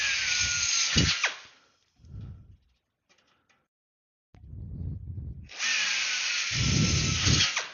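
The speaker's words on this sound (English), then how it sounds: "whenever you're drilling like this, is let the drill do the work" A power drill bores into metal on a homebuilt airplane wing, two loud sustained drilling runs at the start and end with brief handling noises and a quiet pause between.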